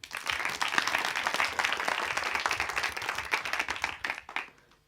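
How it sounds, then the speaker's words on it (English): An audience at a hackathon event gives a sustained round of applause, dense and steady for several seconds before dying away at the end. "And then another round of applause."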